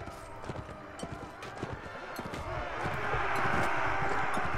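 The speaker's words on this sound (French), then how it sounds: "Il y a plein de chevaux partout." Horses galloping in the video game Mount and Blade Warband, a rapid irregular clatter of hooves that grows louder and denser toward the end, with faint speech underneath.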